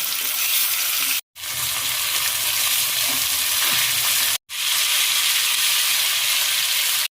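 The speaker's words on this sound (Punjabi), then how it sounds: "ਇਸ ਨੂੰ ਜਦੋਂ ਉਦੋਂ ਤੱਕ ਆਪਾਂ ਭੁੰਨਾਂਗੇ ਜਦੋਂ ਤੱਕ ਇਹ ਟਮਾਟਰ ਦਾ ਛਿਲਕਾ ਪੱਕ ਨਾ ਜਾਵੇ" Tomatoes roasting in a pan until their skins cook, giving a steady, loud broadband sizzle that runs continuously, broken by two brief silent gaps.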